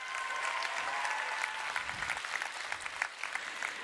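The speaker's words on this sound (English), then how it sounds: "give him a round of applause" Applause from a graduation ceremony audience welcoming a graduate, a steady dense patter of many hands clapping at moderate distance, lasting throughout with no talk.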